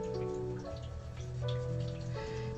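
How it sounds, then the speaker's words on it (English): A small indoor waterfall water feature trickles and splashes softly and steadily, mixed in with quiet piano music playing in the background. "And you may hear the my waterfall going as well. My little water feature."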